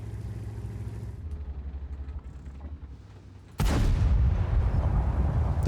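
A tank cannon blast in World of Tanks hits hard and loud partway through, a sudden broadband boom that swells and lingers after a quieter stretch of engine rumble.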